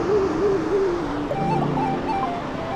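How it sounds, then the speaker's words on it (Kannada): A Himalayan river in Tirthan Valley, Himachal Pradesh, rushes steadily while wavering whistled bird calls rise and fall above the flow, with no one speaking. "ಆ ನದಿಯ ಶಬ್ದ, ಕೆಳಗಡೆ ಪಕ್ಷಿಗಳ ಚಿಲಿಪಿಲಿ ನಾದ"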